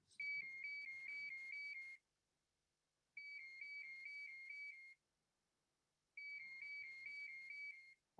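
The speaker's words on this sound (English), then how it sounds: "Answer the phone, please." A phone ringtone rings in three bursts of about two seconds each, separated by short silences, a steady warbling electronic tone heard alone at moderate volume during a workshop session.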